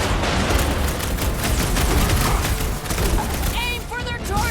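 Guns fire in a busy battle in Guardians of the Galaxy, a steady rapid clatter of shots mixed with mechanical noise. Voices shout over it, and chirping effects come near the end.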